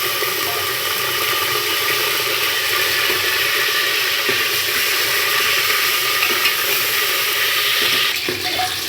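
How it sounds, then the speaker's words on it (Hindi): Steady, dense sizzling of yam pieces frying in hot oil, continuous and close, with faint stirring scrapes near the end. "तेल में इसको डाल रही हूँ। अब इसको फ्राई करते हैं।"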